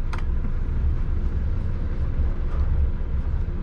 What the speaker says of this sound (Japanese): 貨物列車徐行運転しますよね